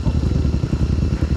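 Motorcycle engine on an adventure trail ride in Isabela, a dense low rumble pulsing steadily and loudly close by, with rattling clatter and no talk.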